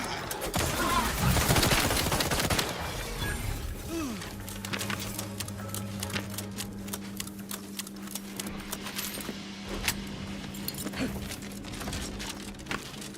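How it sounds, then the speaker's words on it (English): Rapid bursts of gunfire from a burst-fire gun in a shooter video game, loud and dense for the first few seconds. Then scattered clicks and a steady low hum fill the rest, with no talk. "It is a damn good burst fire gun"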